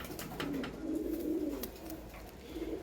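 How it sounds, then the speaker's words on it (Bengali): Giribaz high-flying pigeons coo in low, throaty rolling phrases, close by and steady, with faint clicks and rustles between calls. "সেরা গিরিবাজের মধ্যে এটা সেরা পায়রা।"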